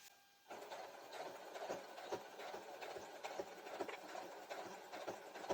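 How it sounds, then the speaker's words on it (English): Sewing machine stitching through four folded layers of denim, a steady rhythmic mechanical chatter close by and fairly quiet, starting after a brief pause and running without talk. "we are going to sew now on 4 layers"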